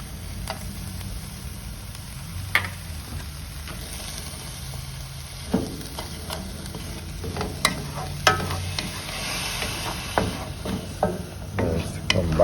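A utensil scrapes and stirs through a sizzling pan of frying breakfast as curry powder, garlic powder, salt and black pepper are mixed in, giving a steady fry hiss with scattered scraping knocks close by.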